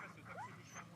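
Sled dogs in a mountain setting let out a brief, faint whine or yip, heard once in a short burst.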